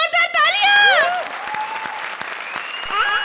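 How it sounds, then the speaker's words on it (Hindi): A studio audience at a comedy show claps in a dense wash of applause, with loud, excited voices and sliding whoops over the top. "जोरदार तालियां।"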